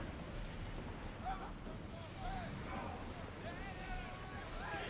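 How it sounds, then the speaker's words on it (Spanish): Ocean waves in the video game Assassin's Creed Odyssey, a faint steady wash of surf and wind as a boat moves through the water, with someone talking over it and occasional whistling game tones. "Es que me llevan las olas"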